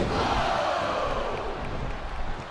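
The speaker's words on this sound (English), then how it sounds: "I think these superstars are getting some feedback from the crowd, JR." A crowd cheers loudly and continuously in the WWE SmackDown vs. RAW 2007 video game during a Royal Rumble, a dense roar that eases slightly toward the end.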